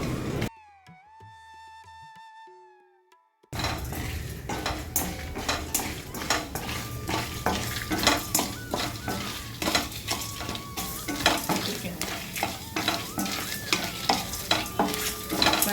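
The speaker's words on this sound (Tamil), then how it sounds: "தேங்காயும் சேர்த்து ரோஸ்ட் பண்ணி போடுங்க" Coconut and spices dry-roasting in a pan, with continuous rustling sizzle and frequent quick scraping strokes of a spatula against the metal, close and fairly loud throughout after a brief quiet opening with music.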